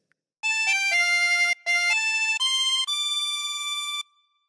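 On chromatic harmonica, the second phrase of Auld Lang Syne unfolds as clear reedy sustained notes stepping upward, with one brief breath gap, played close with no speech.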